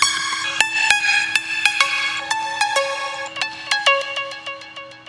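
Layered synth lead sounds in a music mix: bright, plucky, tonal stabs repeating in a quick syncopated pattern over a sustained low tone, dense and clear with no voices.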